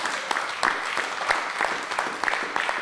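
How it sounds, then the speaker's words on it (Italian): A crowd at a rugby event applauds, a dense patter of clapping that stays steady and fairly close for a few seconds. "bravo Enrico, ti rifacciamo l'applauso"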